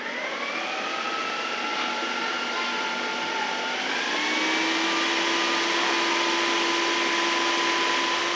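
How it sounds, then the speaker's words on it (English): A motorized butter churn hums steadily as it whips cream on a homestead, a continuous whirring drone that shifts slightly in pitch partway through and runs alone without voices. "What this is gonna do is it's just gonna be churning, and it's first gonna turn into whipped cream"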